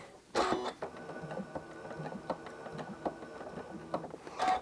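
A domestic sewing machine runs a quick burst of locking stitches during free motion and ruler quilting, its needle clattering in a rapid mechanical rhythm close by, with louder thumps at start and finish.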